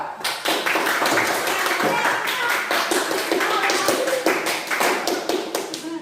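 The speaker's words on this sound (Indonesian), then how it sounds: "tepuk tangan untuk kelompok 3." Students in a classroom clap for a presenting group during a teacher performance exam, a close, loud, busy patter of many hands with quick overlapping slaps throughout and a hint of voices.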